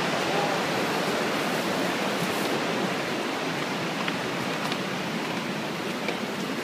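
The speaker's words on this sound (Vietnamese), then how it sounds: "Nghe tiếng nước chảy ở sông ở dưới." River water rushes below the Capilano Suspension Bridge, a loud, steady hiss of flowing water that holds unchanged throughout, with no voices.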